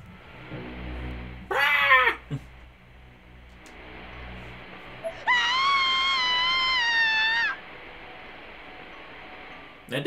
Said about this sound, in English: that sounded like a meow